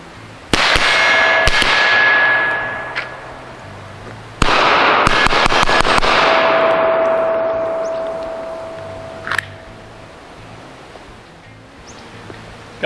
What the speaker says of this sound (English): God, I love the sound of that pistol.